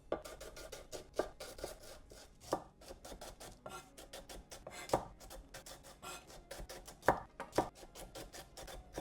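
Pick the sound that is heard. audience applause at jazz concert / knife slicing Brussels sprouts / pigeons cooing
knife slicing Brussels sprouts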